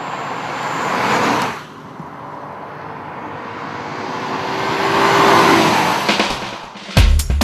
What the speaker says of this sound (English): The big V6 not only sounds the business but also performs with enthusiasm